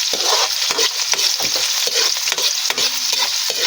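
Beef adobo is stirred in a frying pan with a spoon, giving repeated scraping strokes over a steady, close sizzle of frying.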